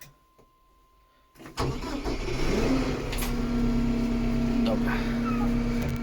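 The heavy diesel engine of a Zetor Major 80CL tractor cranks briefly and catches, then settles into a loud, steady low idle after a quiet start.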